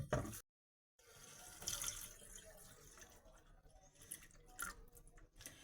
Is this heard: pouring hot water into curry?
yes